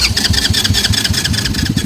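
A small Amazon mini Jeep engine, fitted with twin turbos, sputters and catches close by, settling into a busy, throbbing idle with rapid pulsing and a fairly loud mechanical buzz.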